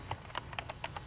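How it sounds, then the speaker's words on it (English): A computer keyboard clicks out an email address in a 1990s PC tutorial, with about eight distinct, crisp keystrokes coming in a quick, uneven rhythm, close to the mic. "Then just type the full address"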